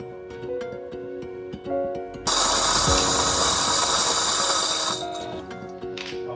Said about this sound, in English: I will have 18 grams of the coffee beans. In the grinder you go.